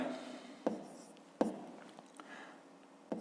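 A pen writes numbers by hand on paper, heard as faint soft scratching broken by a few sharp little taps as strokes begin.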